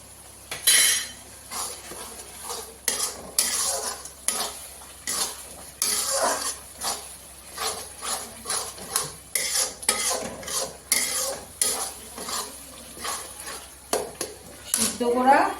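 A spoon stirs chickpea masala in a pan with a long run of repeated scrapes and metallic clinks, uneven in rhythm and fairly close, with faint background noise between strokes.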